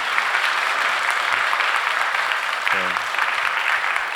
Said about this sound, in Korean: 먼저는 우리 강연해 주신 대표님께 한번 박수 드렸으면 좋겠습니다